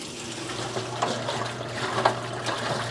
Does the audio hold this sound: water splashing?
yes